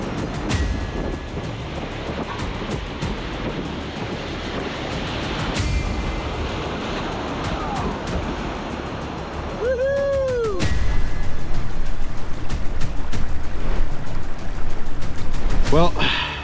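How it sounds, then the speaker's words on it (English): A class three river rapid roars through a canyon as a boat runs it, loud and continuous broadband rushing water with bumps and knocks, and a voice rising briefly over it near the end. "Here goes. Our second big rapid."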